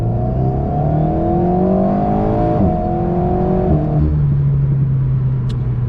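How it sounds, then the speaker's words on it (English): A dual-clutch car accelerates hard, engine note rising through the revs, then a quick gear shift drops the pitch before it climbs again, loud and close. "you can see that the dual clutch locks those gears in quickly. It does sound good."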